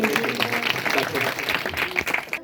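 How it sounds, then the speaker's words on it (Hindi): Church congregation applauding during a Hindi and Punjabi service, a steady burst of clapping for a couple of seconds with a voice speaking over it. "तालियों के साथ धन्यवाद करें"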